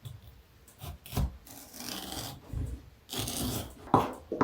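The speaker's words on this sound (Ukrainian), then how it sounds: "Потрібно відрізати частину гарбуза. Ріжу на половинку." A knife cuts a pumpkin in half up close, giving faint rasping, scraping strokes in short bursts with brief pauses between them.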